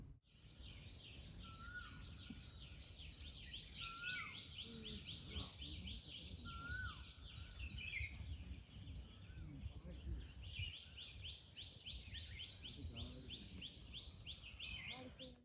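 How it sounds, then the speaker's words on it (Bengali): Birds call outside an open car window on the road toward Maithon Dam in Jharkhand: scattered short chirps ride over a steady high insect drone and low road rumble from the moving car, with no talk. "বাইরের পাখির ডাক শুনুন"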